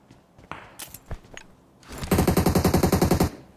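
Gunfire in PUBG Mobile, with scattered single shots and footsteps followed by a loud, rapid automatic burst of a dozen or so evenly spaced rounds close behind, with no voices.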